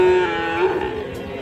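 Sahiwal bull calves at a Friday village cattle market in Parbatipur, Dinajpur, letting out a single loud, drawn-out moo close by, with faint market bustle behind it.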